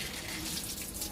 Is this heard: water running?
yes